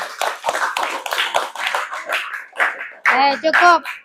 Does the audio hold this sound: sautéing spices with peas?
no